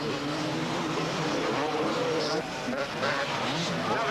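Suzuki 250 motocross bikes race at the 1995 Polish Grand Prix in Gdynia, their engines giving a steady, loud, high roar, with a commentator talking over the din.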